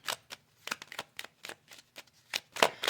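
Lenormand cards shuffled by hand for a tarot reading: crisp, close riffling bursts in an irregular rhythm with short quiet gaps between them, and no talking.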